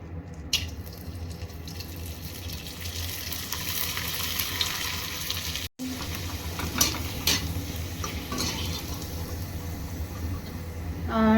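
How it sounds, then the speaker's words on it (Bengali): Dried papaya papads fry in hot oil with a steady, dense crackle that runs the whole time, with a few brighter pops and a brief cutout midway. "চলো এবার আমি এগুলোকে ভেজে দেখাই"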